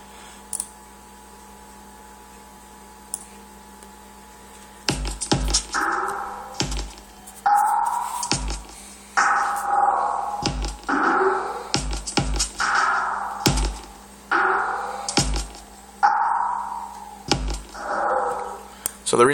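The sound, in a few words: spacey synth beat in a dubstep track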